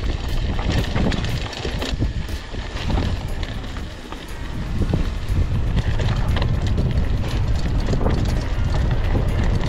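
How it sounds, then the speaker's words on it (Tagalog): Strong wind buffets the microphone of a mountain bike rider near a dam, a loud, continuous rumbling roar that surges and eases without pause. "Lakas pa rin ng hangin."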